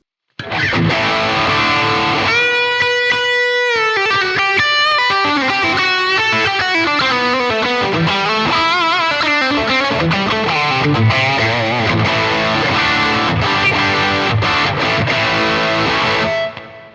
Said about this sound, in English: And now bringing in the drive pedal.